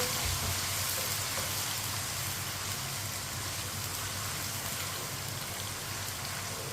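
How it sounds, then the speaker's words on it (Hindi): Mash dal, urad lentils, frying in hot oil over a medium flame, a dense, steady crackling sizzle like heavy rain that continues evenly from start to finish with no talk. "ऑयल हमारा अच्छी तरह गर्म हो चुका है। अब इसमें माश की दाल डाल लेंगे।"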